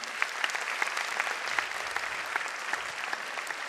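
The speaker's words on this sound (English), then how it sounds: "please clap for them" An audience at a kindergarten annual day applauds parents from the police and army: steady, dense clapping from many hands, fairly even throughout, with no voices standing out.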